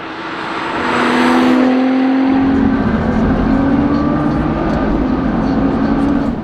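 A 700-horsepower JDM car with a built transmission, running on E85 flex fuel, roars as it accelerates, the engine note rising and swelling loud and near, with no talking.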